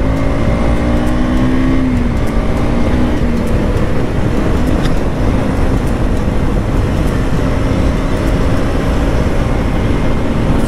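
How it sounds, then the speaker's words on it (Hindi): A motorcycle engine idles steadily just after being started, a loud, continuous near rumble with a faint shifting whine, no voices over it. "ये देखिए ये हो चुकी है अपनी बाइक स्टार्ट।"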